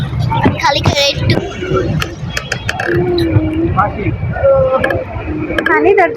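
A boat moves along a river, its low rumbling engine and wind buffeting the microphone while people talk nearby and a voice chimes in throughout.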